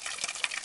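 Water running steadily from a restored stone village fountain in Calabria, a continuous close splashing gush.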